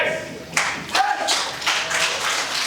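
Several sharp claps after a baptism, irregular and moderately close, mixed in with speaking voices and room ambience.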